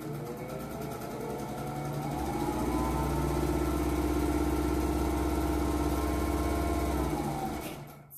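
A vintage, rewired Singer 101-4 sewing machine runs up to speed with a smooth, loud motor whir and rapid stitching rhythm, holding steady for several seconds before winding down, close up and alone.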